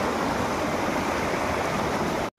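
The Thorla Kada waterfall near Navli village, swollen by heavy rain, gives off a dense, unbroken rushing roar that holds steady and then cuts off abruptly.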